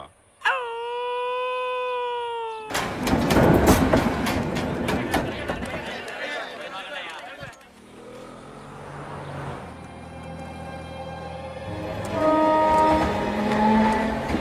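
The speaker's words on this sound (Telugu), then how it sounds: "రైలు వచ్చే టైం అయింది" In a movie scene, a train horn wails loudly at the start, followed by heavy rumbling and clatter as the train arrives, with dramatic music and voices talking in the later part.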